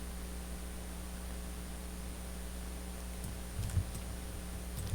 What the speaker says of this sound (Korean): 언폴드 툴은 키보드에서 알파벳 B를 누른 다음에 좌우로 드래그를 하면